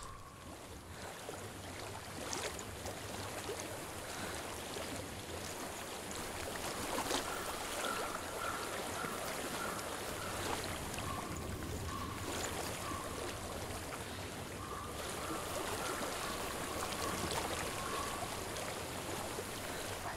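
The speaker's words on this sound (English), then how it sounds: "I hear water." Steady flowing stream water in the video game Hellblade: Senua's Sacrifice, a continuous rushing wash with a faint tonal hum, even and unbroken throughout.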